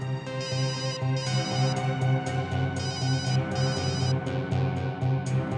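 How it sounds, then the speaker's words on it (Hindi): A phone rings with an incoming call, its electronic ringtone repeating in short rhythmic bursts at moderate volume, with nobody talking over it. "सर मेरी वाइफ का फोन है सर"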